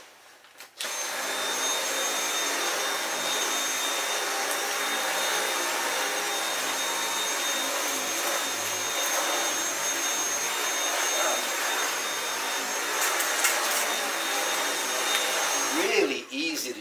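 A Dyson V8 Absolute cordless stick vacuum cleaner switches on and runs with a steady, high-pitched whirring roar close by for about fifteen seconds, then cuts off.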